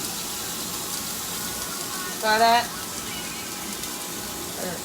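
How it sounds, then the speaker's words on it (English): Liquid seasoning is poured into the cavity of a jerk chicken, giving a steady, close splashing rush throughout with a brief louder burst midway. A voice speaks briefly. "Now if you notice, I'm going to pour it in that cavity."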